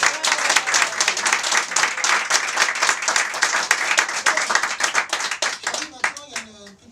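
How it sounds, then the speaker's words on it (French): Audience applause on a French comedy talk show, a dense burst of many clapping hands from the studio crowd, loud and sustained before thinning out, with a voice starting to speak as it fades. "Applaudissements pour Charlie."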